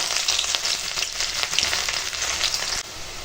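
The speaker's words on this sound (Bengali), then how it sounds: "তেল গরম হয়ে গেছে এখন পেঁয়াজটা আগে দিয়ে ভেজে নেবো" Onions sizzle loudly in hot oil as cooking begins, a close, steady crackling fry with small bursts from stirring, dropping slightly just before the end.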